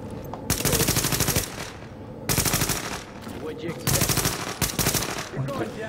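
Shotgun gunfire in The Division video game comes in three loud bursts of rapid blasts separated by short pauses, with game sounds underneath.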